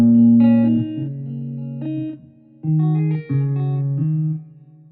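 Clean electric guitar with humbucker pickups plays a few sustained chords and notes, loud and close, ringing with brief pauses and no talking.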